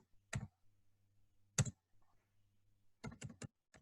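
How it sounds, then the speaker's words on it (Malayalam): Someone types on a computer keyboard in a quiet room, with sparse crisp key clicks: one, then another, then a quick run of four and a final tap, all close and clear. "I will just type on the screen"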